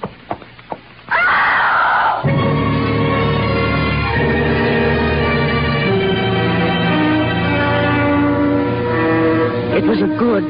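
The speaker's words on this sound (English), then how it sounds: "It was a good, loud scream" A loud, sustained scream with strained harmonics starts abruptly after a brief pause and carries on for several seconds at full volume.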